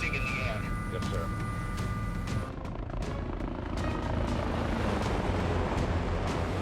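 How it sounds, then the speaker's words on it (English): A helicopter lifting off, its thudding rotor chop and engine whine loud and close, with a high tonal whine cutting off partway through while voices speak over the din. "Get the chopper."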